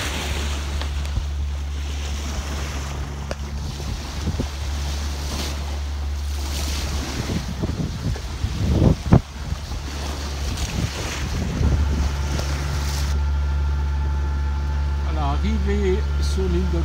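Sea waves and steady wind noise around a sailboat sailing downwind toward the island of Kalymnos, a continuous loud rush with rolling surges and wind buffeting the microphone throughout.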